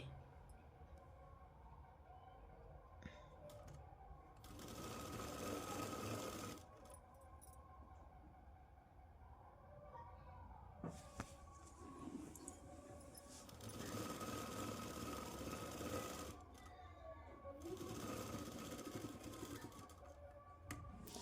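A domestic sewing machine stitches a Punjabi dress along chalk markings, running in several bursts of steady whirring with quieter pauses between, moderately close and with no talking.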